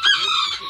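Azteca kikiriki chickens cluck and call at a Texas breeder's yard, a single close, loud, squawky burst under a second long.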